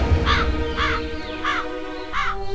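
A crow caws four times at an even, unhurried pace, loud and fairly close, over a faint background hum in a scene from a Hindi TV serial.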